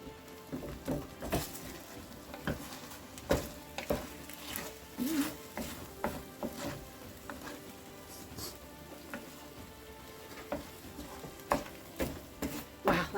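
Onions and garlic fry in a pan with a soft, steady sizzle, broken by frequent crackles and pops, fairly faint and with no voices over it.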